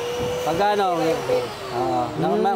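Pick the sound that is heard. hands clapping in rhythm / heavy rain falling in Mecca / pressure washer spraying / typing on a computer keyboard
pressure washer spraying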